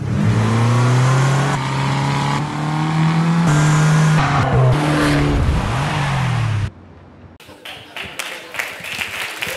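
The engine of a Fiat 500 Abarth revs loudly in a commercial, rising and falling through several throttle blips against a dense mixed backdrop, then cuts abruptly to quieter, choppier sound near the end.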